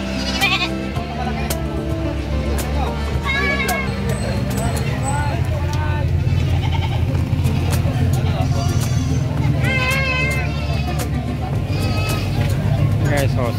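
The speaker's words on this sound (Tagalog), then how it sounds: "Okay, so sobrang daming kambing ngayon." Crowds of goats at a busy livestock market bleat repeatedly, overlapping calls rising above a steady murmur of people talking and background vehicle rumble.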